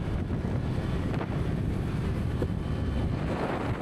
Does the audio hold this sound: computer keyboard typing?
no